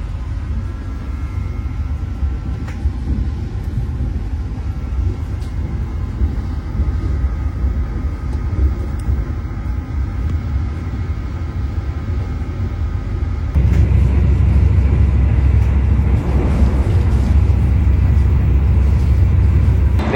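A Kaligung passenger train at top speed, 115 to 117 km/h, roars steadily with a loud rumbling, rushing rattle that grows heavier and louder partway through.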